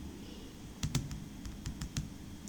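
Typing on a computer keyboard: a quick cluster of clicky keystrokes, then a few more spaced taps, close and fairly quiet over low background hum.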